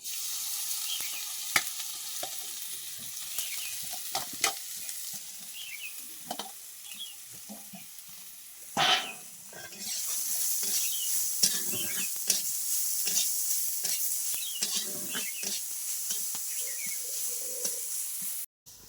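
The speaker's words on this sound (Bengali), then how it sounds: "এবার আমি গাজরটাকে ভেজে নিব।" Grated carrot fries in a pan for semolina halwa, giving a continuous close sizzle with scattered scraping and tapping as it is stirred. A brief louder burst comes midway, and no one speaks.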